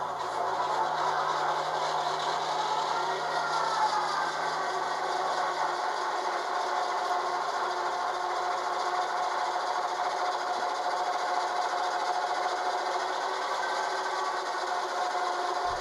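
A Rapido Trains HEP E9 model diesel locomotive in Illinois Central Business Train livery, fitted with an ESU LokSound DCC decoder, runs its startup sequence. A steady droning engine rumble with a whining tone holds throughout, with no talking.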